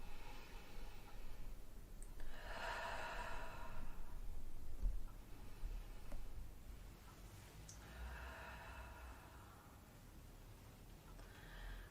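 Slow, deep breaths during a Pilates session, two long airy exhales a few seconds apart, soft and close against a low steady background hiss.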